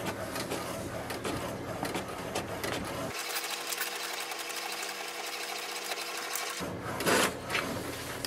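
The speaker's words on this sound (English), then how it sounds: "it will send a command for the printer to print" An HP DeskJet Ink Advantage 2776 inkjet printer runs a page through, its mechanical whirring and carriage motor buzz filling the room steadily for several seconds, with a louder burst and small clicks near the end.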